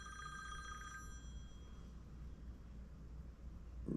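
An incoming phone call rings briefly at the start as a faint telephone-style ring, then fades into quiet background hiss.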